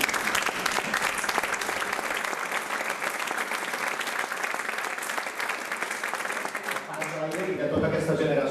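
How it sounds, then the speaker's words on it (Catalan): A crowd gives sustained, loud applause at a talk-style gathering on a pro-independence movement, dense clapping holding steady for several seconds and thinning toward the end. "Un aplaudiment que ve"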